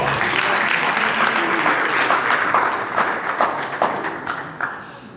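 A crowd at an APC party stakeholders' session applauds a speaker, Mazi Okorafor, with dense, sustained clapping that fills the room and gradually thins toward the end.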